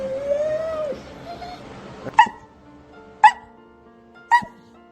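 A former fighting dog whimpers in a thin, drawn-out whine, then lets out three sharp, close barks at roughly one-second intervals.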